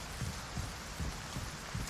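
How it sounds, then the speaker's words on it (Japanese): Rain falls in Resident Evil 4 as a quiet, even hiss, with soft low thumps recurring at a steady beat underneath. "雨降ってる。"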